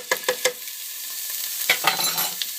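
Sofrito hits hot oil in a pan for Dominican stewed meatballs, sizzling loudly with a few sharp pops and spatters up front, then a steady crackle with more bursts as it is stirred.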